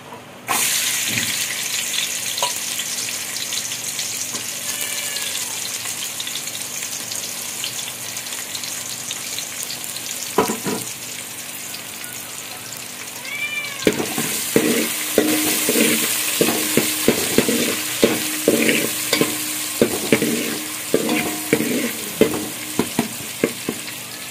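Chopped onion frying and being stirred in a pan for Malvani-style chicken sukka, a steady sizzle with clinking spoon scrapes that grow louder and more frequent in the second half, no talking.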